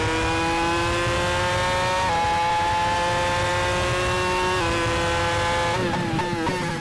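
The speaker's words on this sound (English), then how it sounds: "the engine note is just incredible" A Formula One race car engine from a 2002-season mod in the Assetto Corsa racing game screams loud and close, holding a steady, high, buzzing tone that steps down with gear changes near the end.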